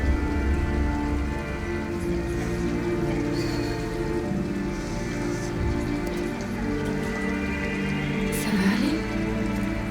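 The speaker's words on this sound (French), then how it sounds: "Ah, il pleut." Steady rain falls in the video game Detroit: Become Human, a dense, loud patter on surfaces lasting throughout, with a brief spoken line heard over it.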